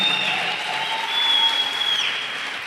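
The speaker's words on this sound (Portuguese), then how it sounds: "uma salva de palmas a Jesus" Steady applause from a large audience at an evening Christian conference, continuous and fairly loud throughout, with no voices standing out.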